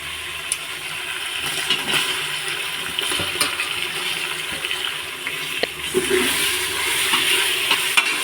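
Tomatoes with ginger and garlic sauté in a pan as a steady wet sizzle and bubbling hiss fills the whole stretch, with occasional soft clicks of stirring close by, no talk.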